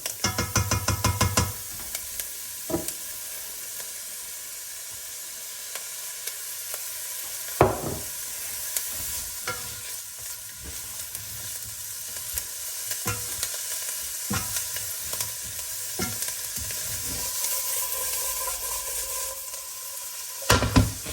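Oyster mushrooms fry in olive oil with a steady, close hiss while a utensil stirs them, repeated scraping taps and clacks recurring irregularly through the long sizzle.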